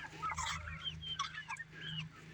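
Quiet clucking from a homestead chicken, several soft throaty calls in a row over a low steady hum, fairly close.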